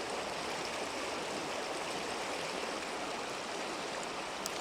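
Loud, steady rush of river rapids churning and roaring without pause, broadband water noise filling the whole stretch, close by, no voices.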